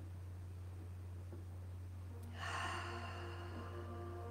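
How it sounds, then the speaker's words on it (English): A single deep breath taken in during a guided meditation at a Sunday church service, one soft breathy inhale rising midway over a steady low electrical hum, close and quiet, with no talking. "take a deep breath with me"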